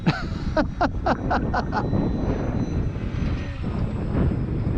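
HobbyZone Carbon Cub S2 RC airplane on a 2200 mAh 3S battery makes a crosswind runway landing: a thin electric motor whine rises and falls in short bursts, then fades under steady wind rumble on the microphone.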